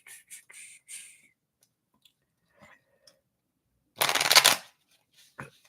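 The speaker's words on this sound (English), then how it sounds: "This stick is so stiff. It's never been used on this channel before. I just now shuffled it for the very first time." A brand-new, stiff 1804 playing card deck gets a single quick riffle shuffle, a dense burst of crisp fluttering card snaps, with scattered soft clicks and handling sounds before and after.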